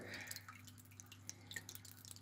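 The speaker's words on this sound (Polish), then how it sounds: "widzicie, pompa teraz przestała pracować. Znowu zaczyna, próbuje, próbuje" An air-locked Aquael UltraMax canister filter pump on an aquarium sputters and gurgles, with irregular water drips and splashes over a steady low motor hum.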